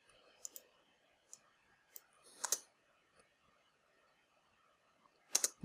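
Computer keyboard arrow keys tapped for small nudges, giving a handful of faint, sparse clicks spread irregularly over a quiet background, with a slightly louder cluster near the middle and at the end.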